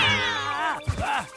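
A cartoon cat gives two close, loud meows, the first long and wavering, the second a shorter rising-falling cry, with no talk over them.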